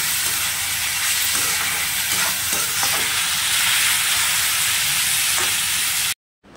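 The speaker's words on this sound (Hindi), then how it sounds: "मैं डाल दूँ टमाटर और धनिया भी अच्छा से भून लेंगे" Vegetables with tomato and coriander fry in a hot pan for noodles, giving a steady close sizzle with occasional stirring scrapes; the sound cuts off abruptly near the end.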